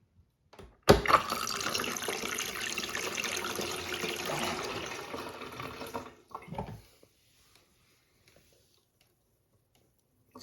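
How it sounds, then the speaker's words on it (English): A toilet flushes a small piece of plastic wrap, opening with a sudden loud rush of water that pours steadily for about five seconds, then cuts off with a brief gurgle before going quiet. "let's do one more flush"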